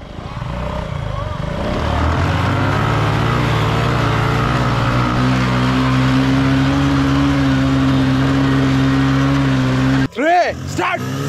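A Suzuki Gixxer and a Bajaj Platina 100cc ES race on sand, their engines droning loudly and steadily with a rising revving pitch, followed near the end by a brief break and sharp, swooping rev bursts.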